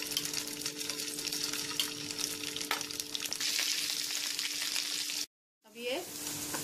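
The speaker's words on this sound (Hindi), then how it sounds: "अब हम इनको तलेंगे।" Potato pieces for aloo chaat frying in hot oil, a steady loud sizzle and crackle that runs continuously for about five seconds, cuts to brief silence, then resumes more faintly.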